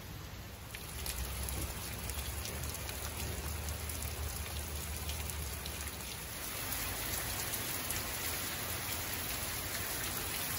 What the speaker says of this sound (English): Tuesday, raining again.